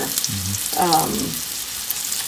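Salmon fries with onions in a hot cast iron skillet, giving a steady close sizzle throughout while a voice briefly murmurs.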